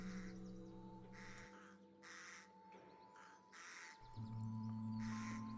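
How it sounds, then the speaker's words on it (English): A raven or crow calls repeatedly, with harsh caws at fairly regular intervals over a low steady hum. "it's thought the wolves may also respond to raven calls"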